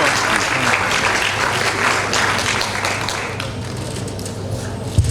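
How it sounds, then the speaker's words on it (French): An audience applauding at a public event honoring a Red Cross ambassador, a dense continuous clapping that fades slightly toward the end, with a brief sharp tap near the close. "est-ce qu'on peut acclamer très fort réellement?"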